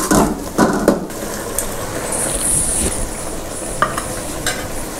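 Spices with salt, dried coriander and red chili powder frying in a pan make a close, steady sizzle, broken by a few sharp scraping stirs of a utensil against the pan near the start and again later.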